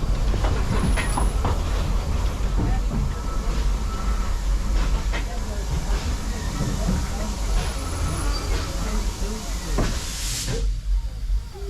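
Vale of Rheidol Railway steam train running up the line toward Devil's Bridge, a continuous loud rolling rumble with hiss and rhythmic clatter of wheels throughout, a brief whistle-like tone near the start, and a voice over it.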